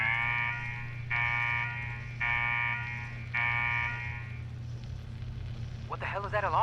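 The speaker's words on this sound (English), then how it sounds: "What the hell is that alarm?" An alarm in Fallout 4's Nuka-World sounds as a loud, harsh buzzing tone repeated in four even bursts over a low droning hum. A voice speaks briefly at the end.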